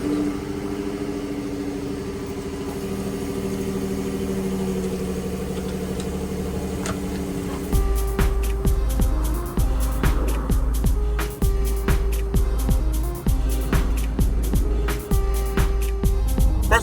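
A 2015 Ford F-150 with a natural-gas-rated 3.5-liter V6 cold-starts after a steady hum, then settles into a close, even idle with a regular pulsing beat.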